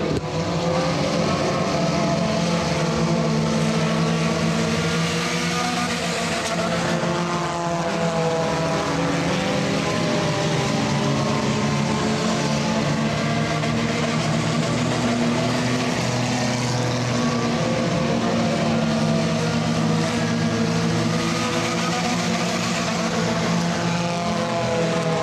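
Front-wheel-drive race cars roar around a dirt-style oval track during a feature event, engines loud and continuous with overlapping revs and shifting pitch as the pack passes close by.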